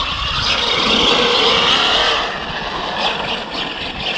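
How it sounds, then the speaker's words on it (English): A 12S-powered RC hypercar revs hard while its front wheels spin, giving a loud, continuous high-pitched electric whine that holds steady and eases slightly toward the end, with no talking. "All the power's just bleeding out of the front wheels."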